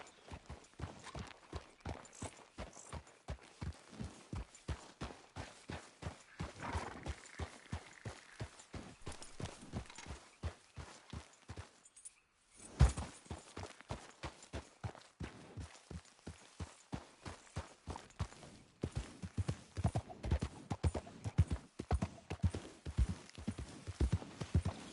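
A horse in Red Dead Redemption 2 clip-clops along at a steady walking pace, hoofbeats close and rhythmic, pausing briefly midway before resuming, with no clear whinny standing out.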